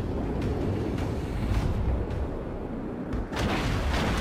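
Warship guns firing in the naval game World of Warships, from the Japanese destroyer Akatsuki: a dense low roar of distant booms and rumbling blasts, with several sharper thuds standing out over the continuous din.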